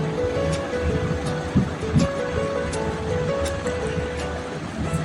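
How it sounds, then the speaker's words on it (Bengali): Surf washing at Bankiputti beach at low tide, a steady broadband rush of waves under wind, with a faint low tonal hum running through and a couple of soft thumps. "বাড়ির কাছেরই একটি সমুদ্র, বাঁকিপুটে।"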